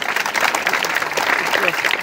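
A crowd applauds at an outdoor district sports award ceremony, a dense, continuous wash of clapping mixed with crowd noise and voices throughout the two seconds.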